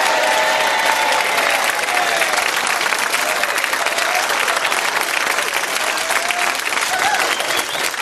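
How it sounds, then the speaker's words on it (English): A studio audience bursts into loud, sustained applause for the Countdown Champion of Champions grand final winner, dense clapping filling the whole stretch without letting up. "Give him another big round of applause."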